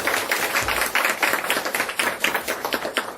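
Rhythmic clapping from a church congregation, beating together in a steady pulse, moderately loud and continuous throughout.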